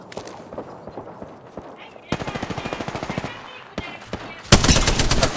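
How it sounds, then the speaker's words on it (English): Rapid automatic gunfire in Apex Legends during a tournament match, with several loud bursts of fast rhythmic shots, the heaviest near the end, while players talk over the action. "They're shooting at me."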